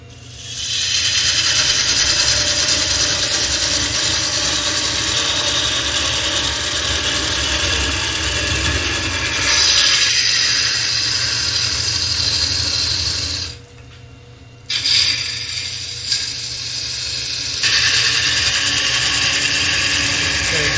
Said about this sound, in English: I'm going to use this 5/8 long swept gouge, long nose, long sweep